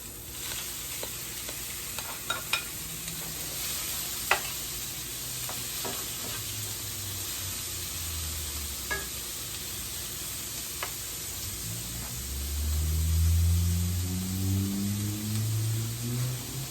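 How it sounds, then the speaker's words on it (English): Shrimp sizzle loudly in a frying pan with peppers, a steady hiss of frying broken by scattered clinks and scrapes of stirring, with a deeper rumble building toward the end. "So now I am going to go ahead and add my shrimp in."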